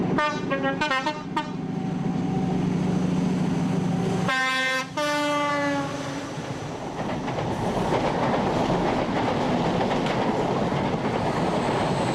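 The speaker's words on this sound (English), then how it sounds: "the train makes light work of the dreaded Dainton Bank" A loud diesel high-speed train climbs Dainton Bank in Devon nearby with a heavy, steady engine roar, and its horn sounds in two short bursts.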